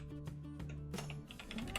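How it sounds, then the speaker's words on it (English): Rapid keystrokes on a computer keyboard while setting up a streaming chatbot, a close, steady patter of clicks with no talking. "Typing, not my strong point."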